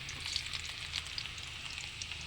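Ginger fries in a pan with a steady, bright sizzle and small crackling pops, close and fairly quiet, with no voices.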